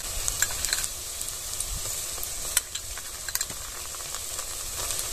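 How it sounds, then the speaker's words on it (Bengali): Ginger-garlic paste and fried onions with chopped green chilli frying in a pan, a steady close sizzle with light scraping stirs throughout. "পেঁয়াজ ভাজা হয়ে গেছে, দিয়ে দেব আদা রসুন বাটা"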